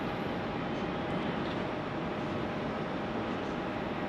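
A Qantas jet arriving at Sydney Airport on a foggy night makes a broad, steady engine roar at a distance that holds for several seconds with no voices.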